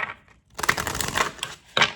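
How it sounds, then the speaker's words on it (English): Tarot cards shuffled by hand in bursts of crisp riffling and slapping, separated by short pauses, close and moderately loud with no talking. "We are shuffling up our cards"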